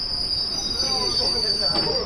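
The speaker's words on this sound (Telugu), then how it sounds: "ఇక్కడైతే ట్రైన్ అయితే ఆగుతుంది" A train's wheels squeal steadily against the rails as it slows to a stop near Rayagada on a Rayagada to Visakhapatnam run, a loud continuous metallic screech close by.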